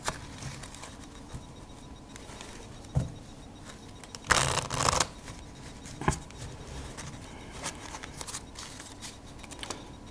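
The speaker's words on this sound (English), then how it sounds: "Shuffle nicely." A standard Bicycle playing card deck is shuffled by hand, quiet riffling patter broken by several sharp snaps and a louder burst of cards cascading midway, close and soft without talk.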